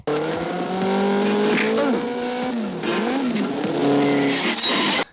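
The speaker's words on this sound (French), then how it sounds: "La flic décide d'entrer dans l'école en moto. Bien pensé, mais je crois qu'elle avait pas prévu de freiner, quoi." A motorcycle rides into a school in the 1984 film The Lost Empire: a loud, continuous engine roar whose pitch rises and dips in sweeping waves, with squealing, skidding edges and a brief drop before surging again.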